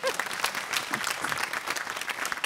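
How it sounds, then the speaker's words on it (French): Audience applause on a French broadcast, brisk, dense clapping from a crowd, close and steady for a couple of seconds with individual claps popping out, no talk over it. "Et ça, ça s'applaudit."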